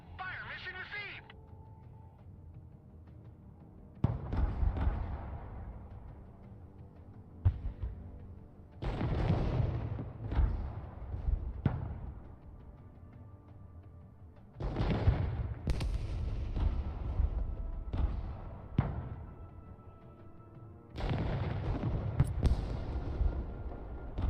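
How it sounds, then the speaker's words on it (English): Mortar artillery fire in a video game, a series of heavy booming blasts spaced a few seconds apart with rumbling tails, moderately loud, while people talk over radio-like chatter between rounds. "Mortar ready to engage, sir."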